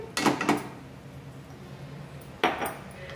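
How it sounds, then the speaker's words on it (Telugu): A ladle stirring cardamom powder into hot caramel in a pan gives two short bursts of scraping and clinking metal, separated by a quiet gap with a faint low hum. "ఇలా వేసుకొని ఇలా గంటతో తిప్పుకుంటూ కలుపుకోవాలి."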